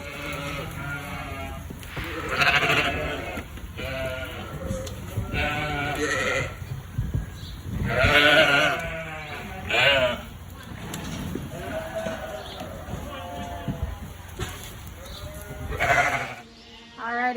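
Black-faced ewes bleating in a farm barn, several loud overlapping calls repeating through the scene, with people speaking now and then among them.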